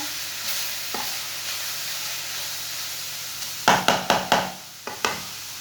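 Grated carrots for gajar halwa fry and sizzle in a pan under a steady hiss, and a spoon scrapes and stirs through them in a run of sharp strokes near the end.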